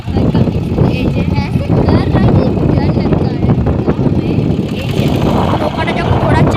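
A boat turning on the water at Talsari, its engine droning steadily and loud close by, mixed with wind buffeting the microphone and a voice talking over it.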